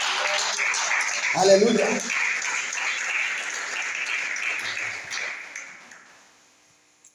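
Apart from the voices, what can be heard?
applause in a church service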